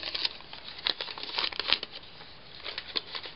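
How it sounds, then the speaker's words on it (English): Brown lunch bag paper is torn and crinkled by hand close up, producing continuous papery rustling and crackling with sharper rips scattered through. "And I think I'm just going to tear."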